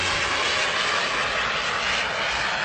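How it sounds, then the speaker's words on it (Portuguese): A jet airplane roars past at speed, producing a loud, continuous broadband engine rush that holds steady across the whole stretch, with no talking. "Vocês assistem a velocidade de avião, um jato, olha, vai vendo."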